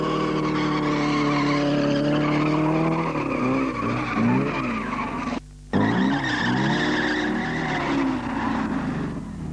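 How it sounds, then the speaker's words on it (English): A car doing a big tire burnout, with loud, sustained squealing tires and a roaring engine whose pitch wavers and climbs, broken by one brief drop-out before the screech resumes. "That's what I call a really big burnout."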